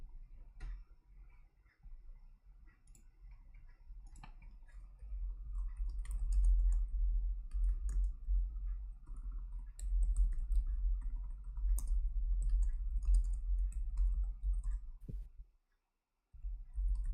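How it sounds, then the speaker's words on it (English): Keyboard typing right beside the microphone, the keyboard resting on the mic stand, giving close, steady clicking keystrokes with a heavy low thump from the stand, continuing for most of the stretch before a brief drop to silence. "The keyboard isn't that loud, okay?"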